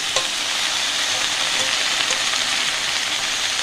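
Bottle gourd greens with salt, turmeric and spices fry in a pan, giving a continuous bright sizzle with occasional stirring clicks, close and steady.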